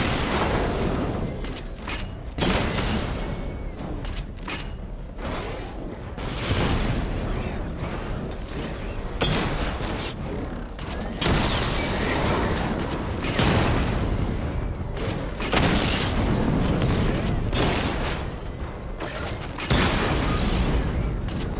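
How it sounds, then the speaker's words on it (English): A missile barrage in Batman Arkham Knight during a diagnostic test hits active targets. It sets off loud, repeated booming blasts in bursts, mixed with mechanical whirring and clanking. "Charge up missile barrage to level 2 and destroy 4 active targets to complete diagnostic test"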